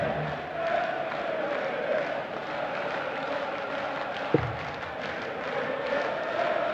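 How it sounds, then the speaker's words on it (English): Darts crowd at the 2018 European Darts Grand Prix in Sindelfingen chanting Mensur Suljovic's name, a steady, dense wash of many voices filling the hall, with one brief sharp knock partway through. "And the crowd now chanting the name of Mensur Suljovic"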